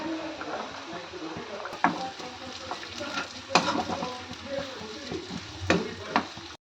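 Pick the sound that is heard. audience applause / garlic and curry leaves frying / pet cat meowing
garlic and curry leaves frying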